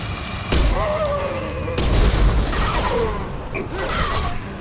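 Explosions from Abomination enemies in the video game Mass Effect 2, loud booming bursts with crackling debris and whooshes, one around half a second and another near two seconds, over continuous game noise.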